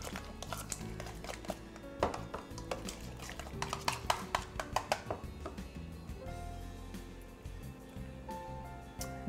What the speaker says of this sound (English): Stir it up here.